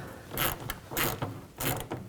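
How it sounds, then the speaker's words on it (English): A worm-drive hose clamp is tightened on a plastic fuel line at the fuel tank of a 2000-06 GMC Yukon, making three short bursts of close ratcheting clicks with brief pauses between. "And we can tighten up this worm clamp."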